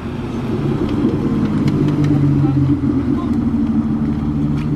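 A loud V8 supercar engine rumbles steadily close by as it arrives at a supercar gathering, a deep low drone holding throughout with faint voices beneath it.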